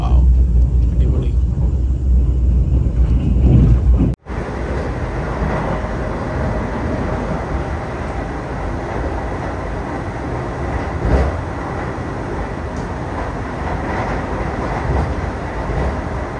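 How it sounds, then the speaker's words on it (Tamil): A fast orange Vande Bharat express train in Kerala roars along with a constant loud rumble and rattle, heard up close for the whole stretch. "பயங்கர ஸ்பீடா போகுது ட்ரெயினு"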